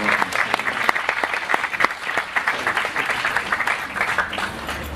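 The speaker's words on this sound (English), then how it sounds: "So if you can give him a warm round of applause." Warm applause from an audience at a Ramadan tent gathering in London welcoming a guest speaker: continuous crowd clapping with distinct sharp claps, fairly close and even in level, with a faint low rumble near the end.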